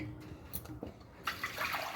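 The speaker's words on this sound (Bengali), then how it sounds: "তাই বাসন মাজতে চলে আসলাম আমি" Dishes are washed under running water, starting with faint clinks and splashes, then a tap gushes louder and steadily near the end, close by and with no voices.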